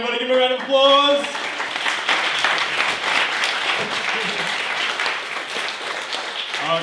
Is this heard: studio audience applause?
yes